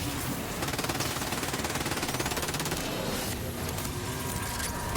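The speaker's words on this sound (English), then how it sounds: "It's great for Zane because you can just run around and shoot it" Rapid automatic fire from the Chaos weapon in Borderlands 3, a dense, steady stream of close shots running through most of the stretch with no talk over it.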